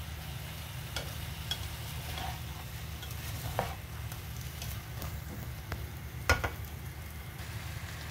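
A mala stir-fry with tofu and a splash of water is mixed in a pan, with soft scraping strokes and occasional utensil clicks over a low, steady simmering hiss and a persistent hum.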